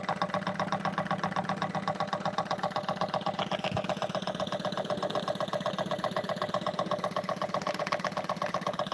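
A rebuilt trammer engine, its broken part braze welded and remachined, runs at a steady idle with an even, rapid chugging knock that stays consistent and fairly close throughout.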